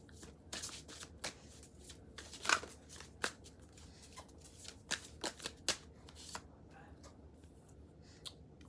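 Dream cards shuffled by hand in a pick-a-pile reading, a run of brisk riffles and slaps scattered across the stretch, close and fairly soft, with quiet talk faintly underneath.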